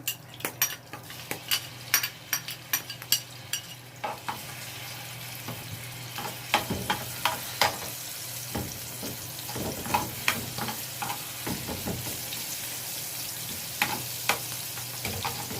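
Grated garlic frying in a pan, a soft steady sizzle with frequent sharp clicks and scrapes of a utensil against the pan, fairly quiet and close, with no talking.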